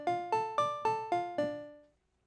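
A Roland Jupiter-8 synth patch with an envelope-modulated low-pass filter plays six evenly spaced plucked, bright notes. Each one swells and then decays, and the last note rings out into silence. No one speaks.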